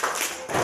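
Students slap their thighs in unison during a classroom rhythm game, two dense bursts of flat, clapping slaps close by with a brief dip between them.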